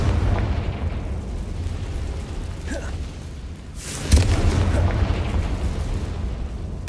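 A Confringo spell blast in a video game bursts out as a loud explosive boom about four seconds in, rising over a steady rumbling game background.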